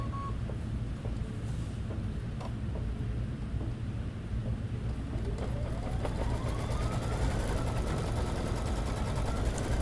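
An embroidery machine runs a placement stitch for fabric applique, a steady, dense mechanical whirring and rapid needle chatter that continues unbroken throughout, with a faint rising tone partway through.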